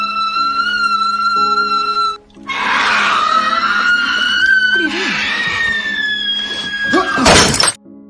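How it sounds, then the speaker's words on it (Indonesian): A boy in a film screams in long, strange, piercing wails, loud and close, with short breaks and a final harsh burst, unaccompanied by speech. "si bocah itu kembali berteriak dengan sangat aneh dan menjengkelkan"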